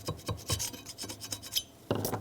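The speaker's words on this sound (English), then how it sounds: "I'm just going to scrape the gasket off and continue on afterwards" Old gasket being scraped off the wheel hub face of a 2007–2014 Chevrolet Silverado 2500 HD during a rear wheel bearing job, heard as a quick series of close, rasping metal strokes in an irregular rhythm, with no voices.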